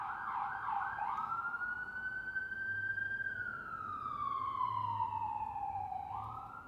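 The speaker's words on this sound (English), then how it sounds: "You might hear sirens every once in a while." A single emergency vehicle siren wails through the streets of Detroit. Its slow rising-and-falling tone sounds at moderate distance over steady traffic hum, with no talking.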